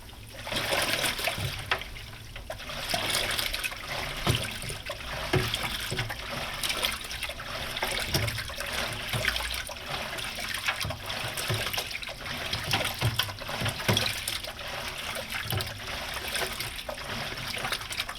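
Continuous sloshing and trickling water inside a Speed Queen TR5003WN top-load washing machine on a heavy duty cycle, steady and moderately quiet throughout with no voices.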